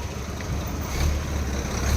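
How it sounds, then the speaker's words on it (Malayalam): A lorry rumbles past on a road during the Chembra Pooram temple festival, a steady broadband engine and road roar that swells slightly as it goes by, with no voices. "ആ പോണ് ലോറി പോയി"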